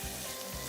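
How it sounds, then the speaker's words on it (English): Egusi frying in a pan, a steady close sizzle and crackle with soft stirring scrapes, continuous throughout and no talking. "now we're going to keep frying"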